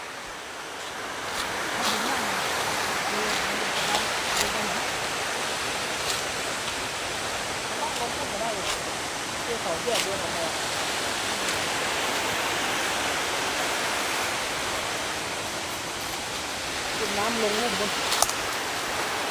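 A waterfall on a nature trail at San Kamphaeng–Mae On roars as a steady, broad rush of falling water, with occasional faint voices and footsteps in the foreground.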